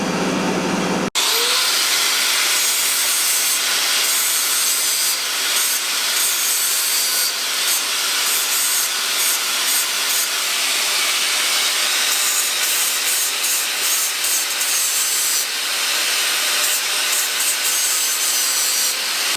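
A grinder cuts off the top of a bolt on a vehicle wheel during a repair, a loud continuous abrasive whine and hiss that starts abruptly and runs steadily for the whole stretch, close to the microphone.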